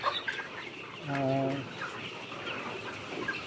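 Day-old pullet chicks in a large poultry growing house give faint peeps and clucks, with one clearer call standing out briefly. Someone talks over the soft, busy background.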